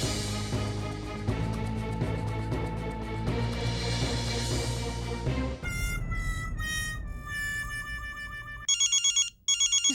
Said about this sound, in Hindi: मेहता साहब का फोन है।